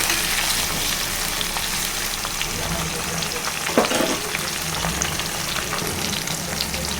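Onions and green chillies fry with chenchela leaves in a pan, giving a strong, continuous close-up sizzle with occasional stirring scrapes and no talking.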